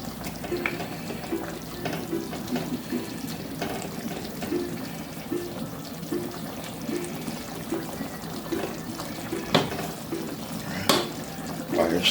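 Beef liver simmering and frying in a pan on low heat in a Jamaican kitchen, giving a steady soft sizzle with light bubbling and occasional stirring clicks throughout.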